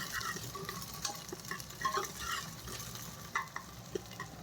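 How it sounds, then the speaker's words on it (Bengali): Moong dal roasting dry in a pressure cooker while a ladle scrapes and stirs it, a continuous gritty rustle of grains with a faint sizzle and irregular scraping strokes, close and unvoiced. "ডালটা এখন কুকারের মধ্যে ভেজে নিচ্ছি আমি"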